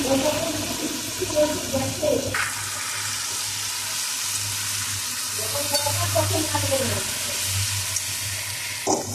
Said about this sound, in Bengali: এখন আলুগুলো ভাজা হচ্ছে লবণ হলুদ দিয়ে।